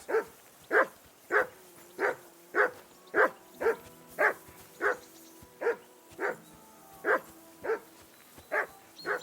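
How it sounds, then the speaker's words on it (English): A dog barks steadily in the medieval video game Kingdom Come Deliverance 2, with about fourteen evenly spaced, moderately loud barks repeating at a regular rhythm over a quiet background. "I assume you can hear that damn dog of yours barking."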